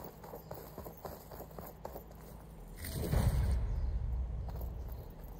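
A horse galloping in Horizon Forbidden West, a steady drumming of hooves under ambient game sound, swelling louder and nearer midway through, with no talk.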